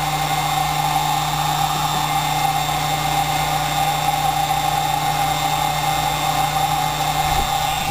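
Steady, loud mechanical whir of an aftermarket cooling fan spinning on an X2 motor, holding a constant tone with an engine-like drone throughout, alone with no talking.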